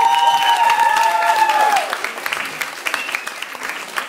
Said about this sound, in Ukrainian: Ваші оплески нашим дівчаткам, нашому організатору!